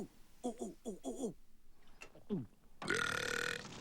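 A voice actor lets out a real belch, a short run of croaky burps followed by a longer, louder rasping belch, close and dry, with a voice speaking briefly between them.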